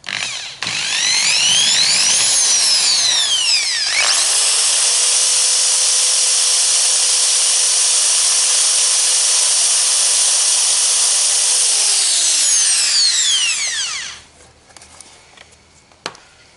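A 450-watt electric drill spins up with a high whine, runs steadily at full speed for several seconds, then winds down and stops.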